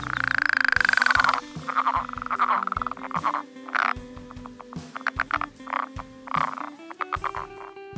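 A tree frog croaks loudly and close up, used as an animal sample in a music piece: a long buzzing call, then a run of shorter rhythmic croaks and clicks repeating with brief gaps.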